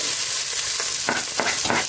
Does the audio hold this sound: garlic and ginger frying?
yes